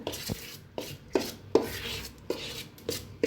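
Chakli dough of bhajani flour being stirred with a spoon or spatula after hot syrup is poured in, giving repeated scraping, knocking strokes against the bowl, close and fairly loud with no talking.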